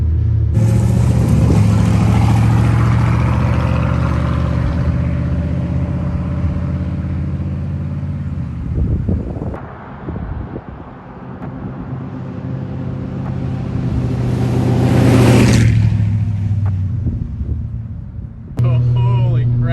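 A car running on tractor tires along a road at about 55 mph gives a loud, steady low rumble and drone with a swell of engine and tire noise near the end.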